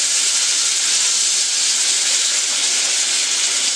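Caribbean shrimp with tails on sizzling in a hot pan, a dense steady hiss of frying that stays loud and even for the whole stretch with no talking.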